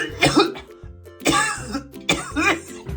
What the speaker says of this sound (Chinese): 这种来自胸腔深处共鸣的咳嗽，是支气管甚至再往下的下呼吸道感染所特有的